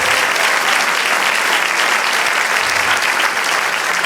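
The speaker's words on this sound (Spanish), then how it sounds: "Dale otro aplauso al Señor" Loud, dense applause from a church congregation during a sermon, clapping for the Lord in a continuous, even roar that fills the space from start to finish.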